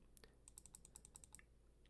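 Rapid computer keyboard typing and mouse clicks, a quick run of light, crisp keystrokes at close range with no talking, ending in a sudden louder knock.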